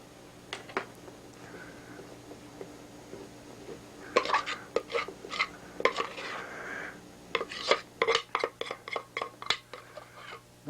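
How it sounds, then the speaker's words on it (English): Hot peanut brittle being spread around a pan with a utensil, irregular scraping and clattering strokes against the pan, sparse at first then busier, close up and fairly quiet with no talking. "Spread it out in the pan to all corners"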